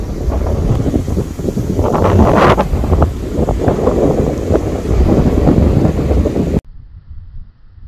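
Strong wind gusts buffet the microphone outdoors on a hillside walking trail in Changnyeong, a loud continuous rushing roar that drops away abruptly near the end.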